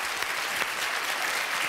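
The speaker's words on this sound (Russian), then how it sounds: "Встречаем его аплодисментами." Studio audience applause on a TV game show, a dense steady clatter of clapping hands filling the short stretch, without speech.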